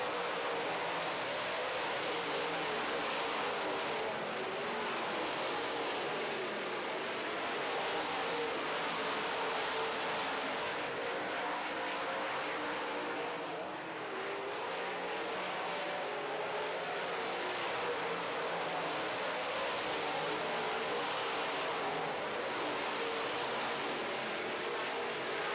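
Late model race cars roaring around a dirt or asphalt oval in a feature race, a steady loud wash of engines with cars sweeping past one after another.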